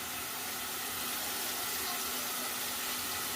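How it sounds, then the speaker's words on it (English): Tap water runs steadily into a sink as a chocolate-coated spoon is rinsed, a continuous hiss of moderate level with no voices. "I'm going to rinse off the spoon that I did the dipped chocolate in"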